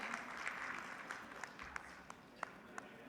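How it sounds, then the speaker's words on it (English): Audience applause at a youth digital-skills event in Rajasthan, a moderate wash of clapping with a few distinct sharper claps standing out near the end. "it's time that we clap"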